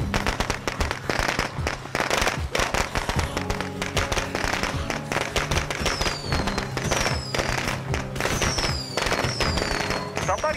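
Grenade blast in a shooter game amid loud crackling, popping explosions and gunfire, with shouting voices over the top.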